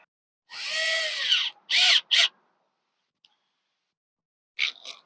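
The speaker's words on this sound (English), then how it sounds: "let's get the drill back out." A power drill whirs in a few short bursts while installing a chimney cap: one long run, then two quick pulses, then silence before a final brief burst. Close and loud.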